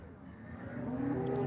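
An HF dairy cow at a cattle market in Loni lets out a single moo that starts low and swells louder toward the end, heard over faint market background.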